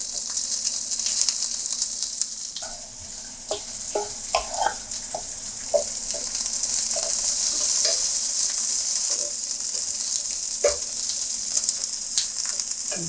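Zucchini fries in a pan with a constant close sizzle, broken by scattered clicks and scrapes as the pieces are stirred and turned.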